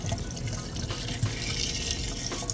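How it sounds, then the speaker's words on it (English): Hot water running steadily down a Kenmore stainless steel dishwasher drain, a continuous close rushing and trickling flow with no pauses, heard alone. "I did want you to see and hear the drain running"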